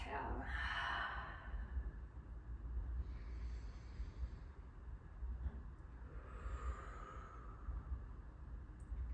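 A single deep exhale is breathed out during a yoga shoulder stretch, a soft airy whoosh near the microphone. Quieter breaths follow, and no words are spoken.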